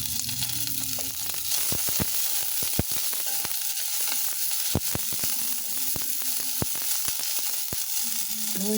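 Onions sizzle steadily in a hot frying pan while being stirred, a constant hiss broken by frequent sharp clicks and scrapes of the utensil against the pan, with a faint voice at the edges.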